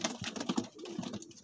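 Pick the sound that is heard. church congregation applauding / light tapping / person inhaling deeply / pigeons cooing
pigeons cooing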